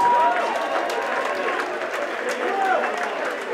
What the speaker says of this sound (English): please, a huge round of applause for both boxers